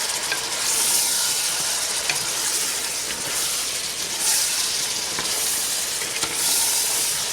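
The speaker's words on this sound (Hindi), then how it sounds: "जिंजर गार्लिक पेस्ट डाल के इसको फिर मज़ीद भूना है हमने।" Ginger garlic paste fries in hot oil for a Bombay biryani, giving a steady, loud sizzling hiss with occasional stirring scrapes. No one speaks.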